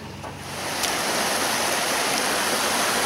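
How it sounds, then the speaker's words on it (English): A creek in the outdoors runs with a steady, close rush of flowing water. The sound swells slightly in the first half second and then holds even and unbroken, with no voices. "so we're down by the stream"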